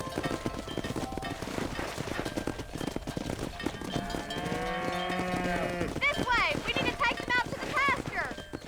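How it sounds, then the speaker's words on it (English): Video game Red Dead Redemption herding scene: cattle moo loudly and repeatedly, with drawn-out bellows and shorter calls, over hoof clops and ambient noise. "Herd the cows down the road!"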